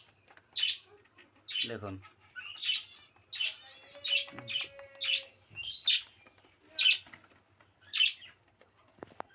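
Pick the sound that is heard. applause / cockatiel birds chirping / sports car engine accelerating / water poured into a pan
cockatiel birds chirping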